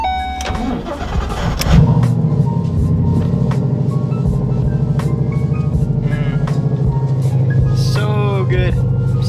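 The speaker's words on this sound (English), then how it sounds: "This thing sounds so good." A Ford Mustang RTR with straight pipes idles loudly and rumbles close by, a deep steady engine drone with a brief rev near the start, inside or beside a shop.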